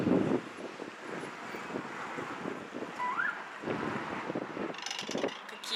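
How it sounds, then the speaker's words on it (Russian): Strong wind buffets the microphone outdoors at sunset on March 30, a steady rough roar with gusty surges and a faint whistling tone, and no voices. "Все сдувает, все сметает на своем пути этот ветер."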